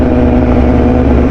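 A BMW S1000RR HP4 superbike engine on a test ride, a loud, close, steady humming drone with an even pitch and no change in revs over the short stretch.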